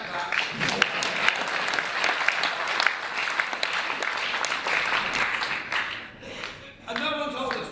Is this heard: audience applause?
yes